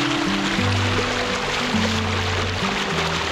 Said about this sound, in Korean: 계곡 물소리를 들으며 잠을 자겠네요.